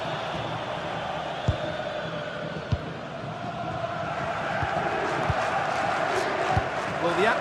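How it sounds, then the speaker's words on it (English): Stadium crowd in a football (soccer) match roaring and chanting with tense energy, a broad continuous wash of noise that swells slightly toward the end, with a few sharp thuds standing out. "The crowd certainly think so. Just listen to them."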